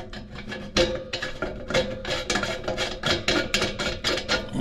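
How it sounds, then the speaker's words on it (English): A small metal stud being screwed onto a Magma boat grill, giving a run of close, repeated rasping, scraping strokes with irregular rhythm and no talk. "this is a little stud that we have here, and we're gonna go ahead and screw it on there"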